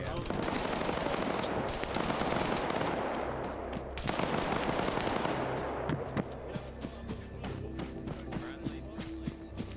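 Dense, continuous gunfire with machine-gun bursts and scattered shots in a military video game's firefight, loud and sustained, with players' voices talking over it.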